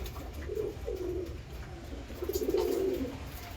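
Pure Arsad pigeons in a breeding loft give low, throaty coos in several bursts nearby, with a longer rolling coo near the end.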